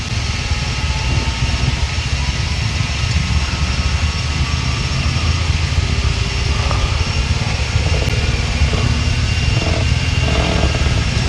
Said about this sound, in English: 2 throttles takeoff. Thank you. Takeoff power set.